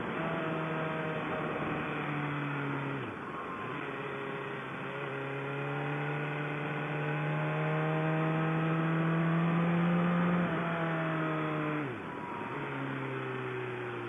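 A 2014 BMW S1000RR motorcycle engine accelerates hard through the gears with a quick shifter, its tone climbing steadily and then dipping sharply at each quick upshift, all heard from onboard with steady wind noise.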